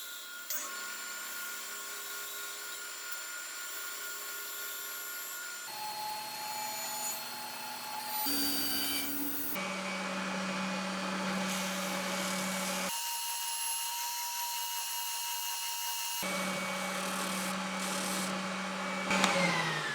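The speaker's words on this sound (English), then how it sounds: "clean those up with my spindle sander" A spindle sander smoothing curved wood edges runs steadily in a workshop, a continuous motor whine and sanding hiss that shifts in pitch and intensity across several passes, with no talking.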